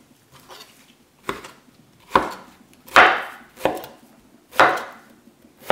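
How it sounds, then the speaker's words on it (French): A knife chops a courgette on a cutting board, six sharp separate thuds spaced roughly a second apart with quiet gaps between them, close and clear, no talk. "Je coupe la courgette en deux et je la coupe enfin en bisous,"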